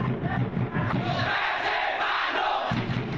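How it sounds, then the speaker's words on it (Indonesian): Persib Bandung supporters in a Cirebon mall crowd together at a Friday-night match screening, a dense roar of cheering and chanted yells that stays loud throughout, with rhythmic low pulses at the start and end. "Sorak-sorai dukungan menggema sepanjang acara nonton bareng sobat militan Persib yang digelar di sebuah mal di Kota Cirebon pada Jumat malam"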